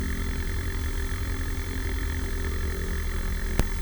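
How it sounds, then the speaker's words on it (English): Piper Cherokee light aircraft engine taxiing, heard from inside as a steady low droning hum with continuous vibration, with one brief click near the end and no talk. "Now we're taxiing into position at the hold short line"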